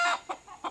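Three short clucks from a chicken, close and distinct, bunched within under a second with no other sound between them.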